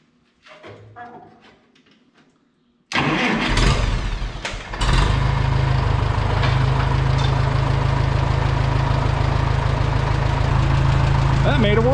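An Oliver Super 44 tractor engine cranks and fires after a few seconds of quiet with a brief voice, then settles into a loud, steady close-up idle that runs to the end.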